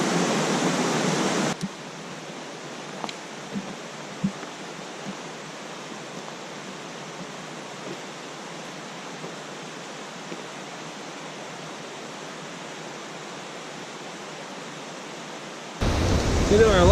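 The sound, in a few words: mountain creek flowing, Big Creek, Great Smoky Mountains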